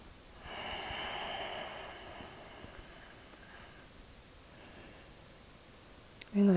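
A single slow, smooth breath during a yin yoga session, soft and close, swelling for about a second and a half before trailing into quiet room tone, with a brief knock at the very end.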